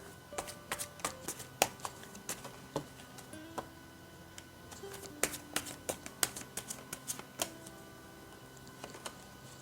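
Tarot cards are handled and shuffled for a reading: a steady run of soft, close snaps and flicks, some in quick clusters, with quiet pauses and no talking.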